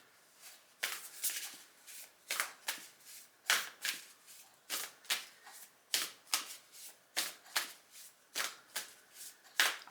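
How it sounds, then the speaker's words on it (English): A deck of oracle cards is shuffled by hand, giving a regular series of crisp riffling bursts, each about a second apart. The sound is close and clear, with no speech. "Let me do another card from this deck."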